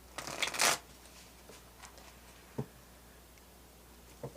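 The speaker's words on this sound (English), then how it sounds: "Let's switch decks here and pull a couple more cards for you all." A deck of cards being shuffled during a tarot-style card reading, a quick dense riffle burst near the start, then quiet with a few soft taps and card flicks.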